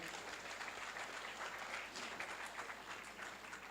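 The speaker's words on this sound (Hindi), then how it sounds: "अक्षय भाई के लिए भी तालियों से आप बुलाइएगा।" A steady wash of audience applause welcomes a speaker to the stage at a Hindi-language public event, dense and continuous for the whole stretch with no talking over it.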